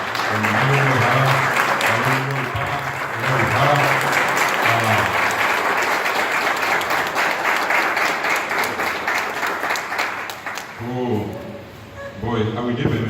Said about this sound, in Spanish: Les pido ponernos de pie para darle este aplauso a nuestro hermano pueblo